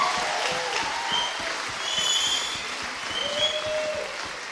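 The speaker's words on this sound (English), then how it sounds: "Let's give a big hand of applause for all of our band up here." Sustained applause from an audience at a Bible institute graduation ceremony, honoring the band; dense steady clapping fills the room for several seconds.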